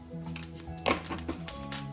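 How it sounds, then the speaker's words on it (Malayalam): Mustard seeds crackle and pop in hot coconut oil in a pan, giving a quick series of sharp, close spluttering bursts over a quiet kitchen background. "ഇതിലേക്ക് കുറച്ച് കടുക് ഇട്ട് കൊടുക്കാം."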